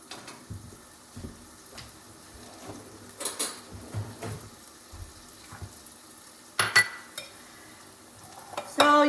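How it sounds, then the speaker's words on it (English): Chopped onions sweating in oil in a pot for broccoli cheddar soup, with a soft steady sizzle, occasional stirring scrapes and a few utensil clinks against the pot, close and fairly quiet. "I'm gonna add my onions, and then let this sweat a little bit."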